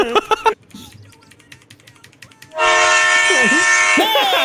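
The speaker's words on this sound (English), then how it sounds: "Damn, we got a train on the team?" A train horn blares loud and sustained over the rumble of a passing train in a video game, after a few seconds of quieter game sounds.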